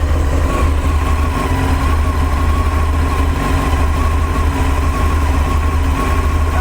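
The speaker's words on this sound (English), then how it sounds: "Just give the throttle a little blip. See how they settle." A Honda CBR600 motorcycle engine runs at a steady, loud idle during a carburettor balancing job, with a constant low throb and no clear rise in revs or any voices.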